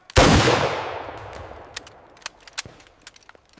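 A musket volley fired on command: one loud, sharp blast that decays over about a second, followed by scattered faint clicks and rattles.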